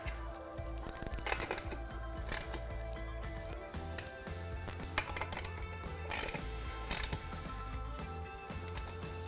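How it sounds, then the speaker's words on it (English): Torque wrench ratcheting on solar panel rail bolts during a rooftop install: repeated bursts of quick mechanical clicks across the whole stretch, fairly close, over a steady low hum, with no talking. "If you are using a torque wrench, make sure that you are using a very high quality torque wrench"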